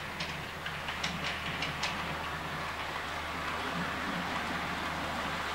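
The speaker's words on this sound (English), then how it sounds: "local stopping train on its way to King's Cross. You just see it come through where the scenic brake's going to be." A model railway locomotive pulling a local stopping train runs through a layout, giving a steady close mechanical whirr with faint rhythmic clicking from the track, heard alone.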